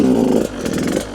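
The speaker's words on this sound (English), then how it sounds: "listen how little I rev the engine" Short burst of motorcycle engine noise, a brief rev rising then settling to a lower idle, loud and close, for a wheelie pop technique with only a small amount of throttle.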